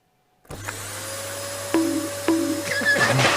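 A vacuum cleaner switches on with a steady whirring hum, its pitch shifting twice as it runs, close and fairly loud.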